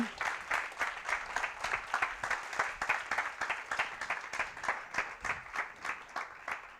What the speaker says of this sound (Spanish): un aplaudiment molt gran per als dos ponents d'avui.